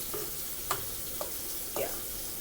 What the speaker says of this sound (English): Now I'm gonna flip the shrimp because they've been cooking long enough on that side.